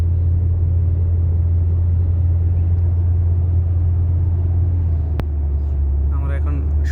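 Car driving into a road tunnel in Muscat, Oman, with a steady, loud low-end engine and road rumble droning throughout, a sharp click near the end, and people talking over the noise.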